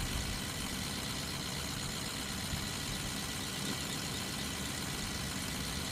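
A lifted Ford F450 Powerstroke dually truck in Farming Simulator 2015 gives a steady, unbroken engine drone at an even level for several seconds, with no speech over it.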